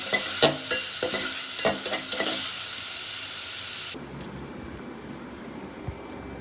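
Spices for bagar hit hot oil during home cooking at night, giving a bright, loud sizzle with several sharp pops and crackles that runs for about four seconds before dropping abruptly to a quieter simmer with a few faint clicks.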